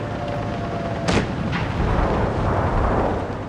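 A tank gun firing in World of Tanks Blitz, one sharp loud blast followed by a second fainter report and a rumbling decay over a steady background.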